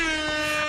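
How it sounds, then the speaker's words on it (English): Air horn giving one loud, steady, brassy blast close up, sustained without a break and heard alone. "which was the air horn"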